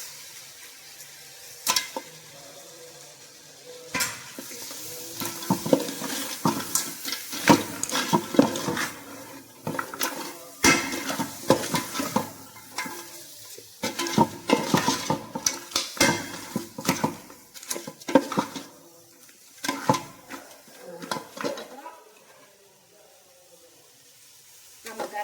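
Crab curry in a pan gets stirred and shifted with a metal utensil: irregular clinks and scrapes over a faint sizzle, close and intermittent, with quieter gaps between bursts.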